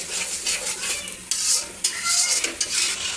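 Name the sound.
spice paste bubbling in pan while cooking bagair fish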